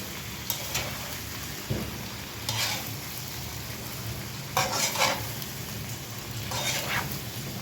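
Blanched vegetables stir-fried in a pan with stir-fry sauce, a constant hissing sizzle punctuated by several bursts of louder scraping and tossing at irregular intervals, close up with no speech.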